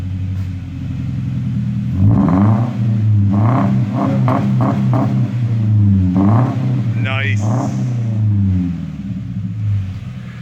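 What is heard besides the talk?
2015 Subaru Impreza engine revving, straight-piped axle back, stock resonator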